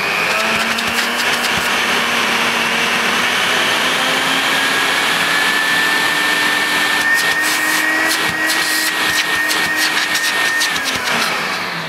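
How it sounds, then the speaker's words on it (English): A vintage Electrolux 560 electronic upright vacuum cleaner with the hose attached runs on its minimum setting, giving a steady, loud motor whine with a slight upward pitch drift, uninterrupted for the whole stretch. "We'll turn it on and I'll just feel the suction at the hose end."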